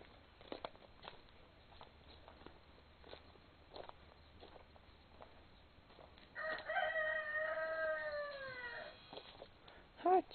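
A rooster crows partway through, a drawn-out rising and falling call over a quiet background with scattered small clucks and shuffling noises.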